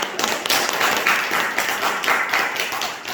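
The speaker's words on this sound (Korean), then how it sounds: "우리 환영 한번 박수 한번" A church congregation claps in welcome during a Sunday service, a dense, steady patter of many hands that fills the whole stretch at even loudness.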